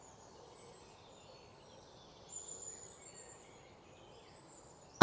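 Birds chirp and sing faintly in the distance on a nature walk through a garden oasis, a soft scatter of high calls over a low, steady outdoor background with no talking.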